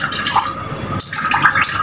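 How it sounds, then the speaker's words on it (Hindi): Soaked poha sits in a strainer while water drains and splashes from it, a close, loud, uneven trickling and dripping with no voices. "उसको हम स्ट्रेन कर लेंगे ताकि उसका सारा पानी निकल जाए।"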